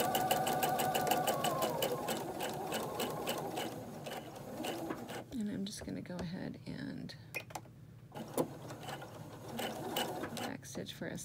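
A sewing machine quilting, stitching in the ditch along a seam, runs in a steady rapid clicking rhythm that pauses briefly midway and then resumes, close by and moderately loud.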